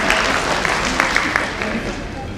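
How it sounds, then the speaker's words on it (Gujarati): An audience claps steadily and fairly loudly at a Jain women's association 50th anniversary celebration in Vadodara, a sustained round of applause from a seated crowd. "એમની માટે જોરદાર તાળીઓ થઈ જાય."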